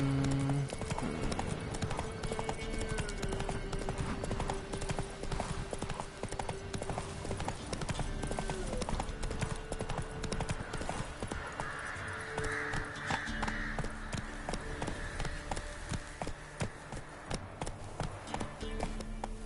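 Roach the horse galloping in Witcher 3, a rapid, steady clip-clop of hooves close by, running continuously under game music and ambience.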